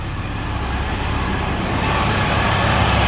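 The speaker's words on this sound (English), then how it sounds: "The blower makes more noise than the exhaust." A steady, rumbling supercharged car engine idles continuously with a deep low growl and a whining blower hum layered on top, close by and fairly loud.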